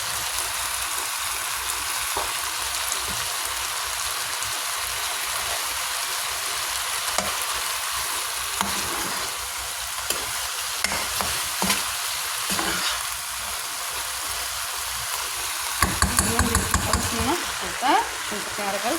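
Tibs meat with mitmita frying in a pan, a continuous sizzle and spatter close by with occasional stirring scrapes and a burst of louder crackling near the end.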